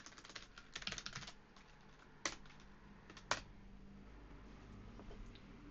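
Fingers type on a computer keyboard in short clusters of close, quiet key clicks, with a couple of sharper single keystrokes standing out between the bursts.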